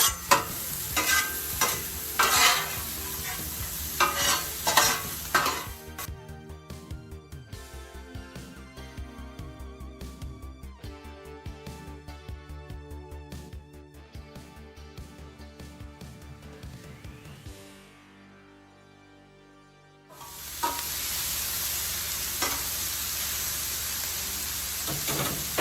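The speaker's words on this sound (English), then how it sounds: "So I've got this turned down even more now. So we're going to get these sauteed up." Cheesesteak vegetables sautéing on a Blackstone griddle: steady close sizzle with scraping stirs at the start, a softer stretch with a faint hum, then the loud hiss returns near the end.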